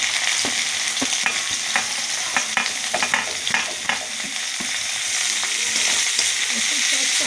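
Garlic and onion fry in a pan with a close, steady sizzle, punctuated by frequent scraping and tapping stirs of a spatula.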